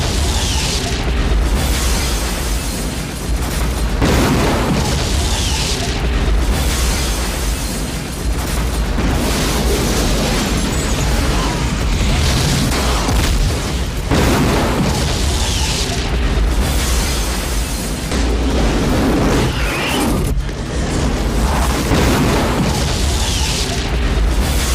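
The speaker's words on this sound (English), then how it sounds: "The explosion finally catches up" A drawn-out cinematic explosion from the monster film The Relic rolls on as a loud, continuous roar of booming rumbles and fiery bursts, with surges and sharp hits recurring across the whole stretch and no dialogue.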